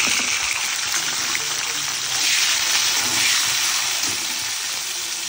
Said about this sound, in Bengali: এবার এই বিনস গুলো দেবো তেলের মধ্যে।